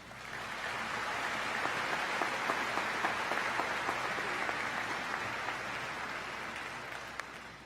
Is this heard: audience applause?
yes